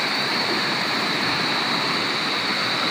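Shallow river water flowing at a bathing spot, a steady, loud broadband rush that fills the whole stretch without pause, no voices over it.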